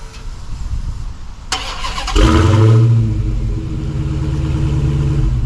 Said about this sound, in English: that dual exhaust, which we can actually take a listen to